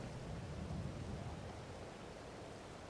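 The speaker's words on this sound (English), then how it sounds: "You can hear it's thunder and lightning." A storm in the video game Farming Simulator 22, with thunder and wind blowing as a steady, dense roar and a deep rumbling undertone, fairly quiet and unbroken, with no voices.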